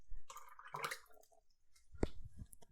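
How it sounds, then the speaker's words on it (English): A watercolor paint brush swishes and taps in a water container, a few quiet close-up sloshes and small clicks of the bristles and handle against the jar. "Clean my brush."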